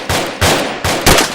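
Four sharp gunshots from a group firing on command, evenly spaced about 0.3–0.4 seconds apart, loud and close with a short ring after each.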